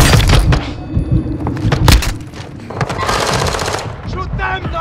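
Loud bursts of automatic gunfire and single shots from Call of Duty: Modern Warfare II combat, with thuds and impacts crowding the mix as voices call out over the fighting.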